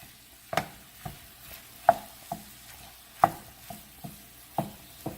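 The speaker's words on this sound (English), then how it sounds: "turn the flame up to about medium so that the beef browns and cooks" Beef browns in a pan over medium flame, a faint sizzle beneath regular scraping and stirring strokes of a spatula spreading the meat out, each stroke a soft distinct knock.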